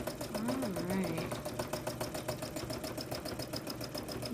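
A sewing machine runs steadily while quilting a graffiti quilt, its rapid even stitching rhythm continuing throughout, with someone talking over it.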